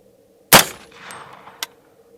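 A suppressed 8-inch AR-15 fires one .300 AAC 188-grain subsonic round into ballistic gel, a single sharp muffled crack in a quiet space, followed by a faint rustle and a smaller metallic tick about a second later.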